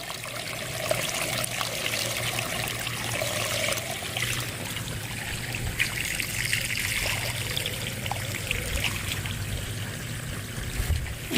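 A pond sand filter running with water flowing through it, producing a continuous close trickling and pouring stream at steady loudness, with a low hum underneath and no talk.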